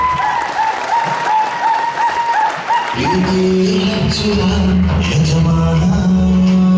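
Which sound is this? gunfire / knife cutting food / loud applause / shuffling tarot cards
loud applause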